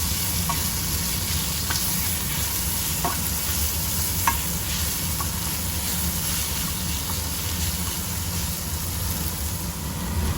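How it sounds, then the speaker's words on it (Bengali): Steady loud sizzle of moringa leaves frying in oil in a pan, continuous and close, with a few faint clicks of a utensil stirring through it and no talk. "তেল দিয়ে একটু নাড়াচাড়া করে"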